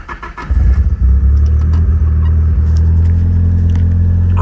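Nissan S14 engine out of gas, cranking loudly and close with a rapid, rhythmic churning drone that never catches.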